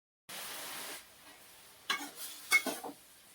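Food being stirred in a pot while making spicy chicken biryani: a faint continuous scrape, then a few short, close spoon-against-pot strokes, with no talking.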